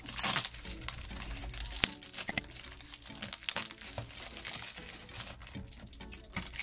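Protective tape is peeled off a mirror during a makeover, making close, crackly tearing and crinkling sounds. The sharp bursts and rustles come unevenly throughout, with a few louder snaps.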